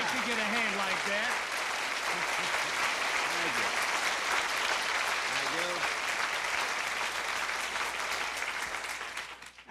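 Loud, sustained studio audience applause on the Lawrence Welk Show, a dense wall of clapping with a voice speaking briefly over it, fading out at the very end.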